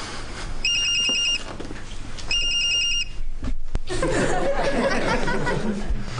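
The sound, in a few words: telephone ringing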